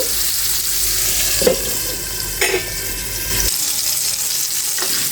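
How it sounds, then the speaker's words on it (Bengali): Sweet pumpkin fries in a pan with turmeric and salt, a steady hissing sizzle with a couple of soft knocks before the frying noise drops away near the end, no voices present. "এখন আমি ভেজে নেব সম্পূর্ণ কুমড়াটা দিয়ে দিয়েছি"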